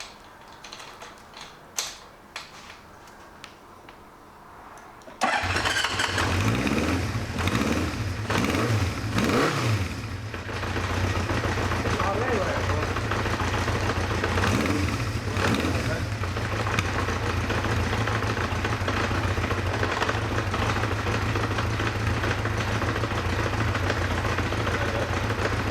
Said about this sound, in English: we'll start the bike and see where it idles at